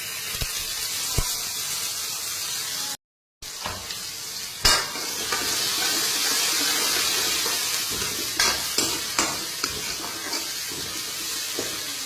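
Onions fry in a pan with cumin and turmeric while cooking for a bitter gourd dish, giving a steady close sizzle. Occasional clinks and scrapes of stirring break through, with a brief dropout partway through.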